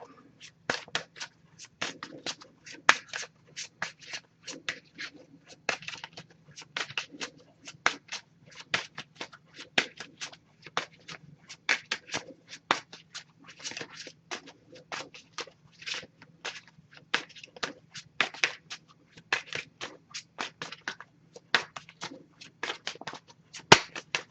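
Oracle cards are shuffled in a long run of short, crisp, papery bursts with brief gaps between them, close and fairly quiet, with no one talking.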